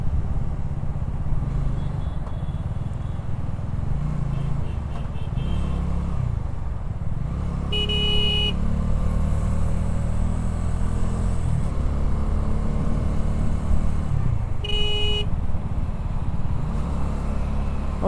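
Riding a motorbike through traffic on the road between Delhi and Gurugram, a steady engine and wind rumble runs throughout, with two short, sharp horn blasts cutting through, one around the middle and another later.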